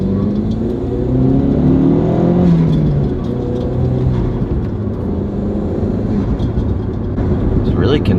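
A Ford Focus RS with a solid race rear motor mount idles with a steady, low, consistent engine drone, while someone talks over it.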